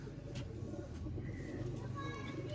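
Breeding pigeons, medium-tailed birds kept in pairs, coo in low, soft, repeated phrases close by, while someone talks over them.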